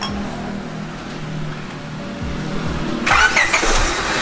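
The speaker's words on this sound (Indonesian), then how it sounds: "khas banget suaranya G17 ketika di starter" A Honda Stream's D17 engine cranks over on its starter, a few rhythmic turning pulses building into a sudden catch as it fires up loud and close, then settles into a running idle.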